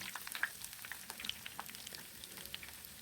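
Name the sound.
eggplant frying in hot oil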